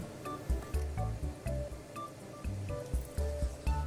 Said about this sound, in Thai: บีบมะนาว